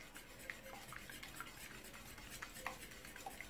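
A Turkish omelette mixture is stirred in a pan, giving soft continuous scraping with light utensil clicks against the metal at low volume, alone with no talk.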